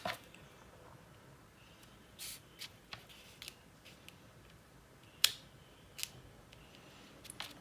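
Scissors snip away excess paper on a floral flap card, a few short crisp cuts scattered and quiet, separated by pauses with faint handling noise.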